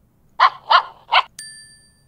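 Three sharp dog barks in quick succession, fairly close, followed by a bright electronic ding that rings out.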